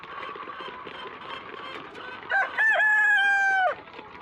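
Rooster crowing at a free-range poultry farm in Kenya, one loud drawn-out crow rising over a steady bed of clucking and chattering chickens.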